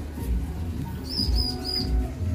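Bar-winged prinia nestlings in a nest inside an aviary give three short, high, thin chirps close by, with low rumbling handling noise underneath.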